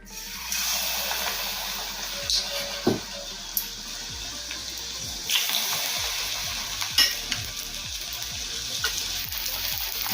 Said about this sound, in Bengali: এখন এই গরম তেলের মধ্যে দেবো ব্যাটারে ডোবানো ফুলকপি